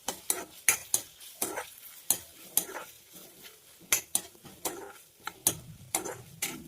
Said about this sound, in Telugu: ఒకసారి బాగా మిక్స్ చేస్తున్నాం ఫ్రెండ్స్.